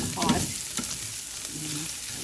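Chicken ham, or chicken spam, fries and caramelizes in a pan, giving a continuous close sizzle with a few stirring scrapes early on and no talk.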